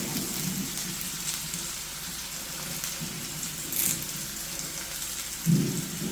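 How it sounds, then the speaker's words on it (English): Onion, ginger and garlic sautéing in a kadhai for spicy kadhai chicken, a soft continuous sizzle and hiss of frying with a couple of brief louder crackles. "The onion has to be nicely sauteed, nicely cooked. All the ginger and the garlic also nicely cooked."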